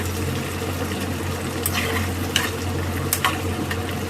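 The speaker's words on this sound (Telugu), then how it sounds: "దీంట్లో ప్రాన్స్ ఫుల్గా ఫ్రై అయిపోవాలన్నమాట" Prawns frying steadily in hot oil for prawn pickle, a continuous close sizzle with a few brief scraping stirs of a utensil in the pan, no talking.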